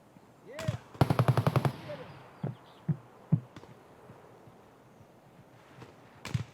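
Gunfire in the video game Escape from Tarkov, set in the Woods map: a single shot, then a rapid burst of about seven reports, followed by a few scattered distant shots, with quiet ambience between.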